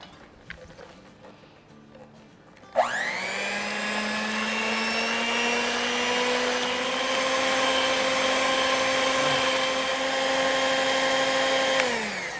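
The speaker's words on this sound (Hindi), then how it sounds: "इसमें डालेंगे 1/4 कप यानी 4 टेबलस्पून शक्कर और उसको बीट करेंगे" An electric beater whips chilled heavy cream with sugar. After a near-silent few seconds, the motor switches on with a sharp start and holds a loud, steady, high-pitched whine to the end.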